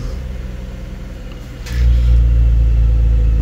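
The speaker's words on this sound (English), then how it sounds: "And those are the valves opening right there." A 2018 B9 Audi RS5's engine idles with a low rumble, then the exhaust valves open as it revs and the exhaust note jumps to a louder, deeper and fuller drone that holds steady, with no talking.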